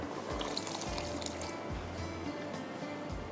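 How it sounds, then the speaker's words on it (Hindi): Water poured into a pot of masoor lentils cooking on the stove, a steady close splashing flow that runs throughout, with no talk. "इसको भी थोड़ी दाल पक रही है तो इसके अंदर पानी डाल दे"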